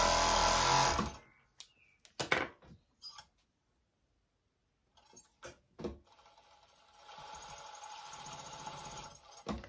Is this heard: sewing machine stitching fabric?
yes